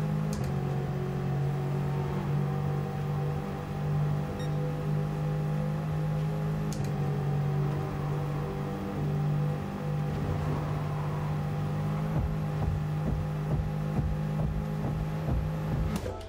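A car engine in Gran Turismo Sport holds a steady high drone with sustained harmonic tones, rising slightly in places as it revs toward its 6,000 RPM peak, loud and continuous without talk.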